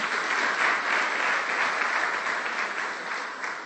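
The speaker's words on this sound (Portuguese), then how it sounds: "Pode aplaudir, não tem problema." A church congregation breaks into applause during a Sunday sermon, a steady, even wash of many hands clapping at moderate volume without pause.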